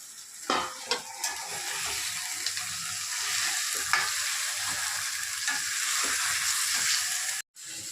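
Mutton pieces frying in hot masala in a pan for mulakayya mutton curry, a steady close sizzle with a few scraping stirs near the start and a brief dropout near the end, no talking.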